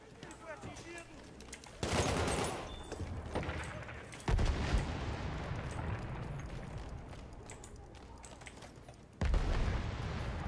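PC gameplay of the shooter Battlefield 1: loud bursts of rapid gunfire and booming impacts come in repeated waves, with excited voices talking over the combat.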